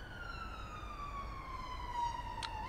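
Emergency vehicle siren wailing at a distance near a river in the UK, a steady sweeping tone held for the whole stretch, fairly faint over low background rumble, with no one talking.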